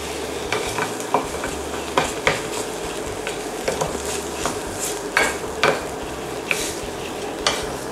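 Thick Thai curry paste pressed and mashed against a hot pan, scraping knocks and spatula taps recurring every second or so over a steady low sizzle, close and moderately loud, no voices.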